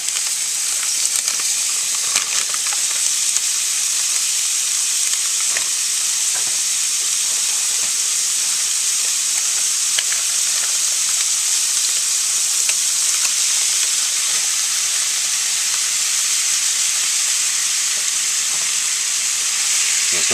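Cauliflower rice and shrimp frying in oil on an electric stovetop set around 7.5 to 8, a loud, even, continuous sizzle and hiss with no talking.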